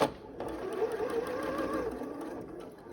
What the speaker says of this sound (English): And then you fold it back over and then sew right over it.